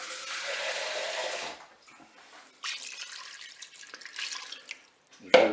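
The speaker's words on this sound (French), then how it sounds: "Je vais pouvoir ajouter l'eau." Water poured into a Cookeo multicooker pot over spaghetti: a steady broadband splashing pour lasting over a second, then quieter dribbles and a second burst of pouring, ending with a short clatter.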